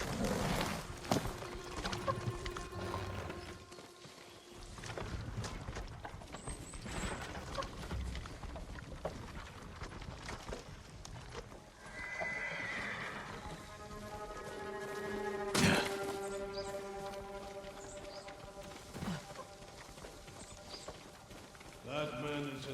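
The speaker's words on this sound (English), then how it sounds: "Follow those horses." Horses in Ghost of Tsushima, hooves clip-clopping in a steady rhythm at a moderate distance, mixed with thuds, ambient game sounds and musical tones, and people talking intermittently over it.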